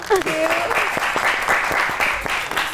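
A studio audience at a Pakistani TV comedy talk show applauds after a singer's song, with steady, dense clapping throughout and a voice briefly heard over it at the start.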